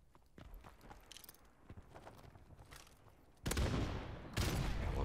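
Grenades explode in a Modern Warfare Remastered search-and-destroy match: after quiet footsteps and faint shots, two loud blasts burst in quick succession, each with a rough, ringing tail.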